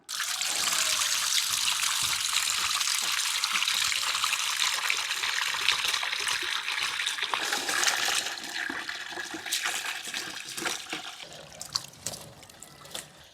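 Sea creatures are rinsed in water before cooking, with a steady rush of running water splashing and trickling loudly throughout, easing slightly toward the end with small clinks and splashes.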